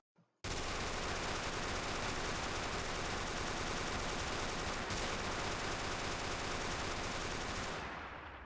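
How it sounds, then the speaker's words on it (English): A modded video-game minigun roars in one unbroken, loud, continuous stream of rapid fire for about eight seconds after a brief click at the start, tapering slightly at the end. "you can never go wrong with a minigun"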